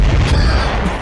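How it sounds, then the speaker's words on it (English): A nuclear bomb blast in a video game, a single loud deep boom with a heavy low rumble that holds steady for about a second, with no talk over it. "A nuclear bomb."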